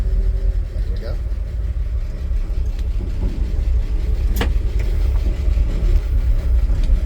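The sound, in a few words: 1959 Chevrolet Apache truck engine pulling away in first gear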